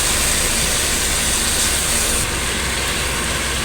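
Meat searing in a pot for a beef okra tagine, a steady broadband sizzle and hiss running loud and continuous throughout, slightly easing partway through, with no voices.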